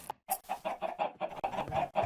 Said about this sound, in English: We got these guys right here, the chickens.